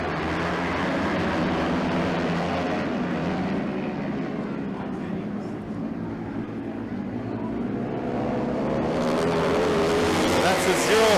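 Racing motorcycles roar off the start line at a classic motorcycle race, a loud, sustained engine howl that dips slightly and then swells again as the pack accelerates away.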